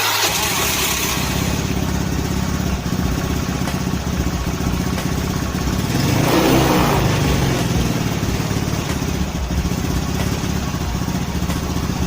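A carbureted Honda Beat scooter engine runs nearby with an unstable idle, its revs rising and falling unevenly, including one clear surge midway, while a faint voice speaks underneath.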